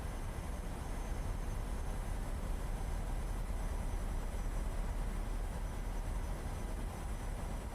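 PMDG Boeing 737-700 flying an ILS approach in Microsoft Flight Simulator, a steady, even cockpit drone of engine and airflow noise at moderate level, unbroken and without talk.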